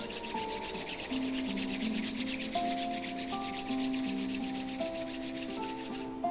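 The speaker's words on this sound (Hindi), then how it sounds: "दोनों हाथों को जोड़ लें और जोर से रब करें।" Both palms rub together hard and fast at the end of a morning gratitude meditation, a steady close friction hiss that runs without a break over soft sustained background music.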